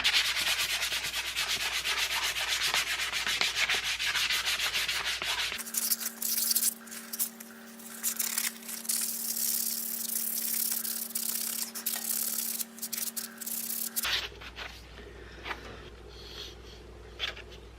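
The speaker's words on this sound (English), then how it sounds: "I'm going to take some 180 grit now, and I'm going to hand sand and ease all the edges on the utensils" Cherry wood utensils are hand sanded with 180 grit sandpaper to ease their edges, giving close, steady rubbing strokes that continue without pause, with a faint hum through the middle stretch.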